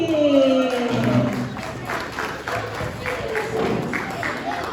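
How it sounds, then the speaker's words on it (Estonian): Audience applause at a Christmas event, a moderate crowd clapping with some murmuring and voices mixed in, sustained for several seconds. "Ja teeme aplausi"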